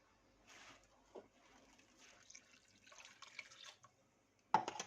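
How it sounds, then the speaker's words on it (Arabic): Cold water poured into a glass in a home kitchen during hawawshi preparation gives faint, uneven trickling and splashing with a few small drips, ending in a sudden louder burst of pouring. "هقوم حاطه بقى ايه كوبايه ميه ساقعه"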